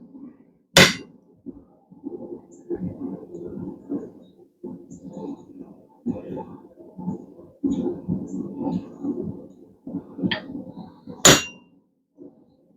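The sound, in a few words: hammer striking punch on steel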